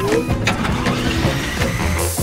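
A small toy helicopter's whirring motor buzzes steadily throughout, with a continuous high mechanical drone and faint rattles, close by and fairly loud.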